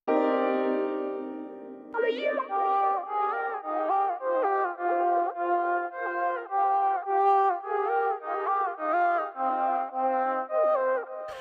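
Reversed synth lead line with a filter, reverb and delay in a spacey R&B beat, opening with a long swelling tone and then moving through pulsing, repeated melodic notes that wash into echoes.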